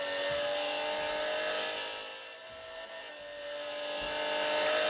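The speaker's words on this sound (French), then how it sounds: "On va écouter un peu ce V12 là." Lamborghini Centenario V12 engine in the racing game Real Racing 3, a steady high-pitched roar that dips briefly and then climbs again, loud and continuous with no talking.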